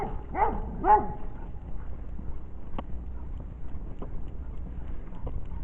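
A couple of dog barks near the start, then a noisy, windy background with scattered faint clicks and no more barking.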